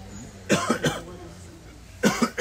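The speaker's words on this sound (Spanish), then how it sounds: "Tenías que toser en mi video." A person coughs in two short bursts of two or three coughs each, fairly close and clear, with a quiet pause between them.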